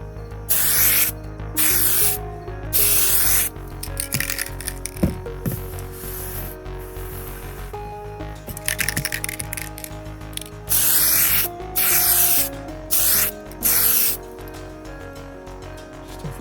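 Tamiya PS7 orange aerosol paint sprayed onto an RC car body, several loud hissing bursts of varying length separated by pauses, over a low background hum.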